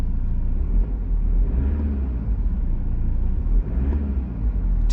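A steady, muffled low rumble of a BMW 320d M-Sport Touring (F31) diesel engine heard from inside the cabin while driving, even and subdued with little clatter coming through.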